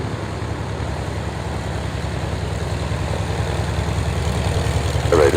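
Skyraider aircraft taxi in at Duxford, their engines holding a low, steady idling rumble that builds gently toward the end.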